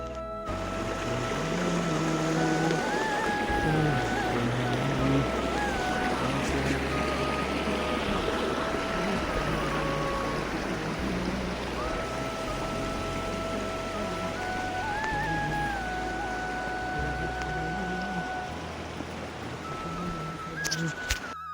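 A mountain river rushes steadily along a hill trail between Malta and Dumre Besi in the Khandbari area, a loud, continuous broadband roar with no breaks and faint tonal sounds drifting over it.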